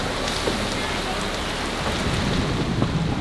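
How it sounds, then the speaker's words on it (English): Dense rain pours steadily on a sailboat at anchor, a constant close hiss with scattered heavier drops and a low rumble underneath. "So it's not as bad right now, a little rainy"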